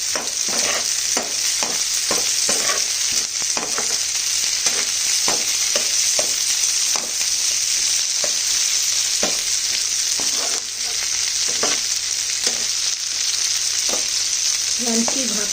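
Capsicum stir-frying in a hot pan for chilli chicken, a constant bright sizzle broken by repeated scraping and tossing strokes of a spatula, close up with no talking.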